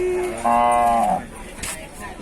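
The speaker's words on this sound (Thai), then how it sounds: "โอ้ควายน้อย" A water buffalo lets out a loud, close moo at a cattle market, a single drawn-out call followed by faint market noise.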